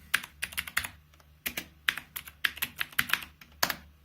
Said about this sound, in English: I'm going to type it manually.